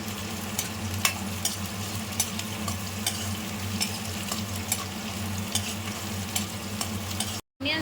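Sliced onions fry with dried red chilies and a sprig of curry leaves in a pan, giving a steady close sizzle broken by occasional sharp crackles and stirring scrapes, with no voices, and a brief dropout near the end.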